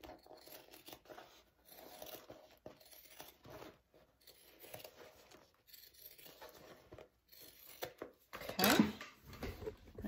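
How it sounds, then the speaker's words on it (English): Scissors snip through a sewn fabric sling base in short, quiet cuts spread across the stretch, with one louder rustling burst near the end. "we're gonna just trim our base down real quick"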